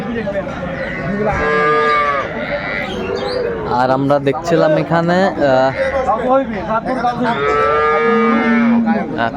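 A dairy cow and calf at Aftabganj cattle market in Dinajpur moo loudly and close, with long drawn-out calls at the start and end and someone talking between them.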